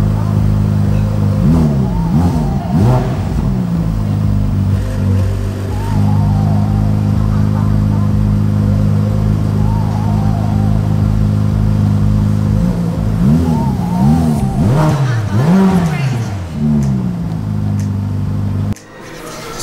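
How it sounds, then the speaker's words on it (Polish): A Ferrari F8 Spider's twin-turbo V8 idles with a deep, steady burble and is revved repeatedly in sharp rising and falling bursts, loud and close, at a showroom premiere. "bardzo ładny dźwięk V8 podwójnie doładowanej. Te turbiny nie psują w ogóle tego dźwięku"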